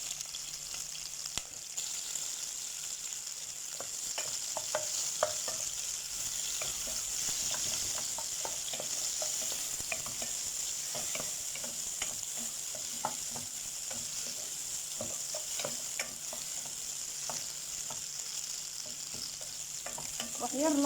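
Chopped onion frying in a small amount of oil in a pan, a steady close sizzle with soft crackles and occasional stirring scrapes throughout.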